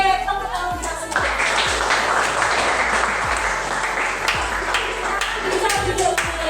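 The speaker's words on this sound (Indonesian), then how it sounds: "Oke, tepuk tangan kita semua." A classroom or workshop group applauds together, loud continuous clapping with sharp individual claps standing out near the start and throughout, plus a few faint voices underneath.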